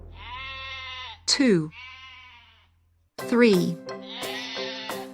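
Sheep bleat several times, long wavering cries up close, alternating with a voice counting aloud between them.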